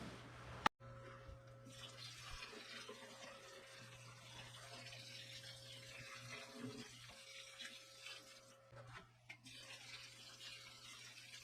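Water trickles steadily over soil in a four-foot aquarium tank being set up as a dirted tank, a soft, close, continuous pour with a sharp tap near the start and a brief pause late on.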